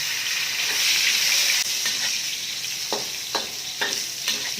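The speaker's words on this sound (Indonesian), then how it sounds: "Nah, ini aku akan goreng dulu untuk taupoknya biar tidak hancur." Tofu puffs frying in reused fish oil give a steady, close sizzling hiss, with a few sharper crackles and stirring clatters toward the end and no voices.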